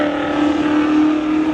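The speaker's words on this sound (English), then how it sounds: "Medeiros, you can hear that car fire" A Subaru Impreza drag racing a 2002 Ford Mustang at a spectator drag event, one car's engine firing and accelerating hard in a loud, sustained droning roar without a break.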